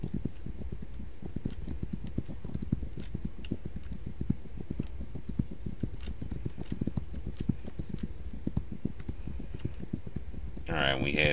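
Horse hooves clip-clopping in a steady, rapid walking rhythm throughout, a ridden horse in the video game This Land Is My Land, with a brief burst of other game sound near the end.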